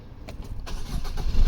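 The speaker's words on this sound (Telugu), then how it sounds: "ఒకసారి ఇంజన్ స్టార్ట్ చేసి చూపిస్తాను సార్ క్లారిటీగా. సౌండ్ ఎలా ఉందో అంది వినిపిస్తాను" A 2016 Maruti Ertiga ZDI+ diesel engine cranks briefly, catches, and settles into a low, close rumble.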